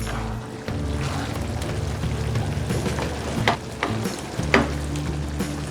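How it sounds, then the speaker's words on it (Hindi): Beef keema with peas fries in a pan while being stirred, a dense continuous sizzle with scraping spoon strokes and occasional louder clinks against the pan, close up with no talking. "अब इसको थोड़ी देर हम मिक्स करेंगे।"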